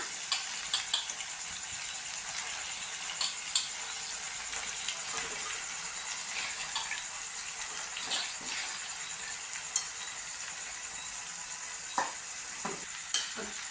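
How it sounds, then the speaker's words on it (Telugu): Spiny gourd pieces sizzle in chicken curry in a pan, giving a steady hiss broken by scattered stirring clicks and clinks close by. "చూడండి, బోడ కాకరకాయ ముక్కలు వేస్తానా."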